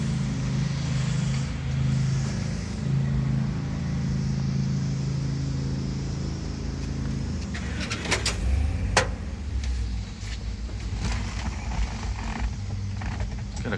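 A restored 1966 Chevelle SS with a 396 V8, about 138,000 miles on the motor and a cam rated around 400 hp, idles steadily with a deep, continuous rumble. A few sharp mechanical clicks and creaks come through near the end.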